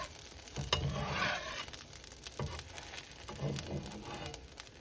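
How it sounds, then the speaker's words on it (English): Oil spreading across a hot frying pan for vegan French toast, with a moderate close sizzle, soft swishing as the pan moves and faint crackles running steadily throughout. "So I need to spread my oil around"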